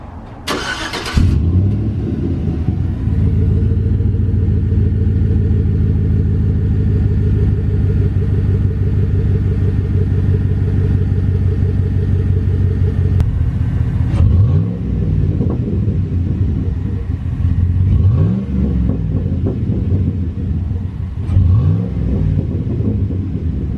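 A pickup truck with its stock exhaust idles with a loud, steady low rumble, then is revved several times in short rising bursts that fall back to idle, recorded close outside the vehicle.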